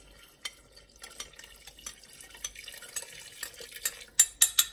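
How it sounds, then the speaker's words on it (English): Liquid poured into a pot of simmering homemade beef stew on the stove, a soft trickling splash that builds toward a few louder sloshes at the end, with no voices. "Make sure all that gets poured in there."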